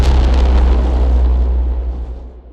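A braam hit sound design effect, a single heavy, aggressive low brassy blast with deep sub-bass weight that rings out and decays over a couple of seconds.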